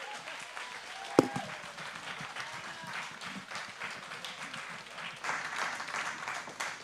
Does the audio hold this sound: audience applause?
yes